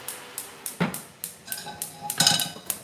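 A metal frying pan clanks and knocks against a stovetop in a quick irregular series of sharp impacts, with a brighter clattering cluster near the end.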